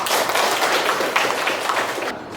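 A classroom of students claps hands together in a dense, continuous round of applause that lasts about two seconds and then cuts off.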